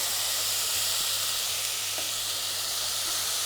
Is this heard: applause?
no